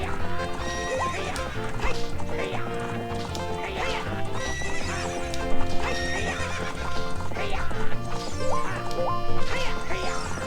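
A horse gallops with quick clip-clop hooves and lets out whinnies during a horse race in Zelda: Ocarina of Time, layered over busy, bright game music.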